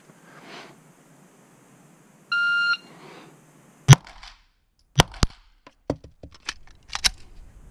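Several sharp gunshots in a row, timed by a Pocket Pro 2 shot timer: a short electronic start beep, then crisp, loud reports at uneven intervals, first single shots and then quicker pairs, with no talking.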